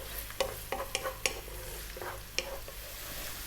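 Onions and garlic sauté in a hot pan under a soft, continuous sizzle, broken by several sharp scrapes and clacks of a utensil stirring against the pan.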